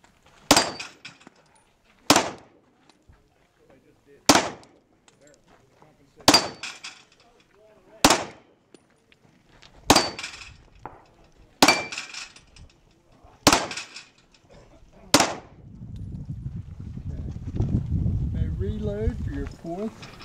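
Glock 19 pistol shots fired at steel plates in a GSSF match in Tucson, eight sharp, loud cracks spaced about two seconds apart, each followed by a metallic ring, then a broadband rumble and faint voices at the end.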